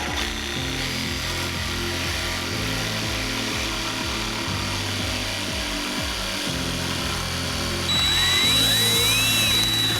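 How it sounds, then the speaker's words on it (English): A jigsaw cuts through a wooden desk leg with a loud, continuous buzzing rasp and rhythmic stroke pulses. Pitch shifts slightly as the cut progresses, and a brighter, higher whine rises near the end. "we're going to use a jigsaw to cut that."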